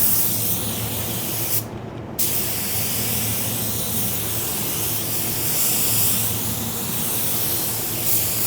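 A paint spray gun laying a coat of car paint at about 25 PSI, a steady close airy hiss that runs almost unbroken with one brief dip, alone without speech.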